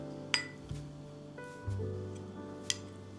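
A spoon mixes two tablespoons of yogurt in a bowl, giving a few sharp, sparse clinks against the dish over a quiet background with a low steady hum.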